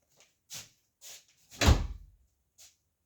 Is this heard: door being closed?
yes